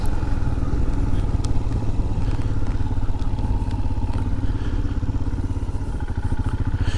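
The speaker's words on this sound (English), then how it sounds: "you got to watch out when you're riding a motorcycle" A Royal Enfield Himalayan motorcycle riding along a country road, its engine a steady loud throbbing drone with rattling and thumps throughout, close up and continuous, with no talking.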